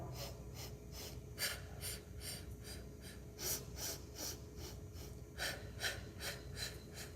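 Repeated breaths in and out during a wall Pilates exercise, a slow rhythm of soft, airy inhales and exhales close by, with a faint steady hum underneath.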